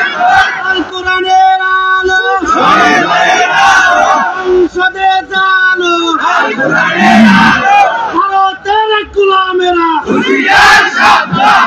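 A large crowd at a religious gathering loudly chants a political slogan in unison, call-and-response style, with a leader's amplified voice alternating with thunderous group shouts in repeated bursts.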